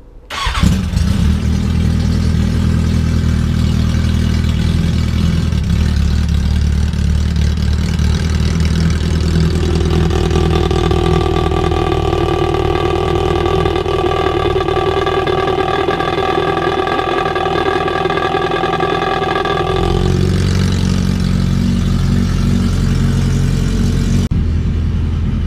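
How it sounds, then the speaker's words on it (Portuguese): A motorcycle engine with a vuvuzela fitted to its exhaust runs steadily and loudly, with a bright, horn-like tonal drone over the low rumble before it shifts and settles near the end. "uma demonstraçãozinha aí pra vocês verem o ronco da moto nova aí com a cornetinha no escape"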